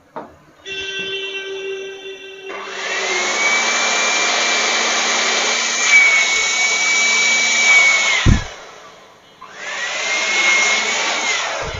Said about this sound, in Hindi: अब ये इस तरफ से हम लोग हवा मारेंगे